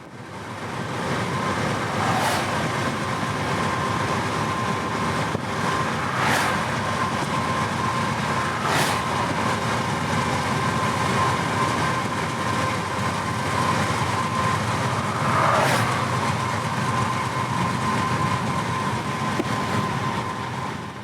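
A CSX train passes on the S-line near St. Catherine on a rainy, overcast day, making a continuous loud rumble for the whole stretch, with a few faint periodic clacks.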